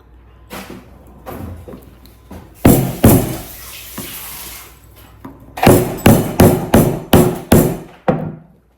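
Loud, hard cracking blows on macadamia nut shells ring out close by, a few scattered hits and then a fast run of about eight strikes at a steady rhythm.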